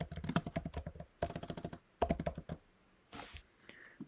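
Computer keyboard typing C++ code, close and crisp, in three bursts of rapid key clicks separated by short pauses, with a few scattered clicks trailing off at the end.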